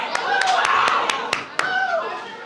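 An audience at a Brooklyn debate summer camp showcase claps for the camp staff: a handful of sharp, separate claps spaced across the moment, close by, over ongoing chatter and talk.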